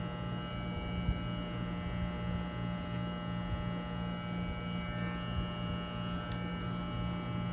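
An electric hair clipper runs steadily through a slow fade haircut on the side of the head, giving a continuous close buzzing hum without pause for several seconds.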